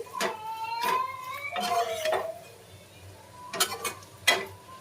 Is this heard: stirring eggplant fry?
yes